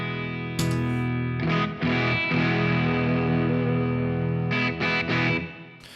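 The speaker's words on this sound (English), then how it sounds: "It is an overdriven sound." An electric guitar runs through a Beetronics Fat Bee overdrive pedal, playing sustained gritty overdriven chords with a few pauses between strums, clear and alone without any talk.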